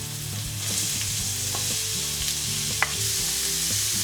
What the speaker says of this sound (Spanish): Ponemos un poco de aceite en la sartén y ponemos dentro la cebolla